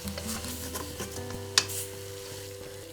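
Lamb pieces with onion and spices fry in a pan for a Punjabi lamb curry, a low sizzle broken by repeated scraping stirs, with one sharp utensil clink and a low hum underneath.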